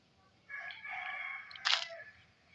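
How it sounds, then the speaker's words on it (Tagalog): Rooster crowing in a Minecraft game, one distinct crow rising to a loud harsh peak near the end, alone against a quiet background. "Ay, ang ingay naman ng manok."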